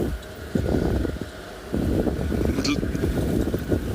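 Steady wind rushing past the microphone during an open-vehicle morning safari drive in South Africa, a continuous rumbling buffet mixed with engine drone while someone talks over it.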